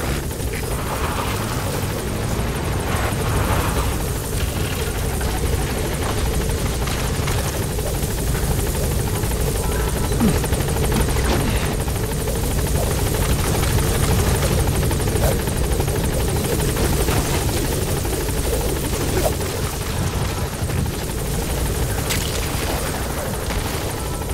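A helicopter in the video game Metal Gear Solid V hovers while trying to land, its loud, steady rotor roar and engine buzz filling the whole stretch without a break.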